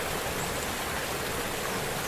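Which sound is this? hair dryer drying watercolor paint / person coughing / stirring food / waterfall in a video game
waterfall in a video game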